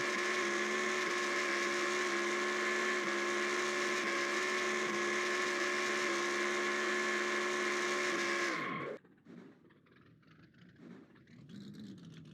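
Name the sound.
race car burnout in video game NASCAR Racing 2003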